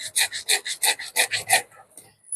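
A cloth scrubs back and forth across a motorcycle helmet, giving about eight brisk, even rubbing strokes close by before it trails off into quiet.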